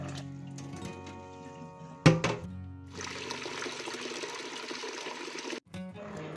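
After a sharp clatter, water streams steadily into a cooking pot for a few seconds, about 3 litres for masoor dal, then stops abruptly with a brief splash.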